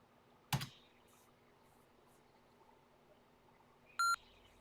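TI-99/4A computer keyboard gives one sharp, isolated key press in a quiet room, followed a few seconds later by a short electronic beep from the computer.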